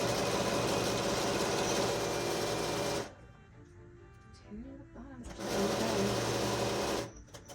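A sewing machine stitches the seams of a fully lined apron, running in two loud sustained bursts broken by a quieter pause with light handling sounds, then stopping near the end.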